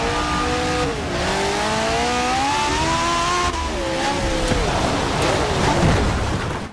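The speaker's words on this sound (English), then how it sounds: "And it's raining, which is not helping." Rain hissing steadily behind a race car's high, wavering engine whine during a wet race in Forza Motorsport 7, the car revving and shifting up and down throughout, loud and continuous.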